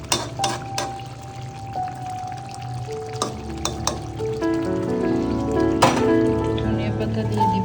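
Pabda fish sizzling as it fries in a pan with chillies added, a steady low crackle with a few clinks and stirring sounds throughout, with someone talking over it.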